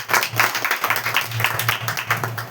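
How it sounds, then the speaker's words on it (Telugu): A congregation at a Women's Day sermon applauds loudly and steadily, a dense burst of close clapping from a crowd that fills the whole moment. "గట్టిగా చప్పట్లు కొట్టండి."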